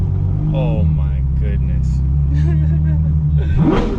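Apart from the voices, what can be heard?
Ferrari 812 Superfast V12 exhaust with bagpipes, no valves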